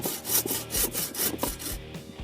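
A hand saw cuts through a wooden branch in steady back-and-forth strokes, about eight rasping pulls in quick rhythm, close and fairly loud with no talking.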